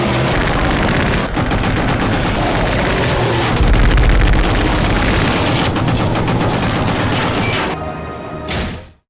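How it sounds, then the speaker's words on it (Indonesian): Dense machine-gun bursts and booming explosions roar nonstop as German fighter planes strafe a warship in a Normandy landing war film, loud and close, with rapid rattling fire throughout before it cuts off. "tiba-tiba kapal perang dari Batalion 5 mendapatkan serangan dari pesawat tempur Jerman"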